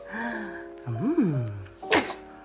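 A six-month-old baby makes a quick breathy sound, then lets out a single sharp sneeze near the end.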